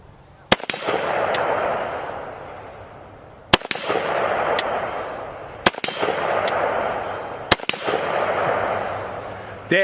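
A military surplus rifle firing .223 rounds at an outdoor range: four loud, sharp gunshots spaced a few seconds apart, each cracking close by and trailing into a rolling echo.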